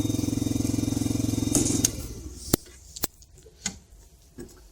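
A Yamasaki YM50 motorcycle, a 2022 RE edition up on its stand, runs with a steady close engine drone for about two seconds before cutting off, followed by a few sharp clicks and taps.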